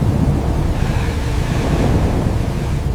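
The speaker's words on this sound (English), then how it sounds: "Get out of the rain!" Heavy rain pouring down in a prehistoric floodwater scene, a loud dense rushing roar with wind-like rumble, constant and close throughout.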